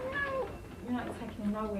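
A cat meows in an indoor home setting, its short tonal cries mixed in with loud, close speech from a man and a woman arguing.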